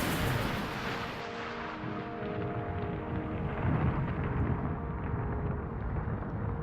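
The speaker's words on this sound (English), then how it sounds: "lightning strikes the launch pad." Thunder from a storm over a Florida rocket launch pad, after lightning strikes near the Phoenix Mars lander rocket, rolls as a continuous deep rumble, fairly loud and unbroken, with no voices.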